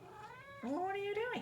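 A pet cat named Betty meows twice, loud and close, rising then falling, while someone speaks to her over the first part.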